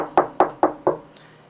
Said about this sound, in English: there came a knock on his door